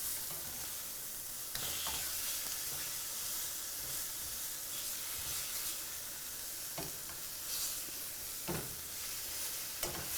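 Thin slices of chicken, just flipped, sizzle in a pan with a low, steady hiss and scattered pops and scrapes, moderately close and with no one talking.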